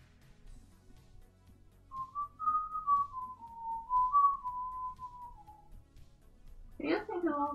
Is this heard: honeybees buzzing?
no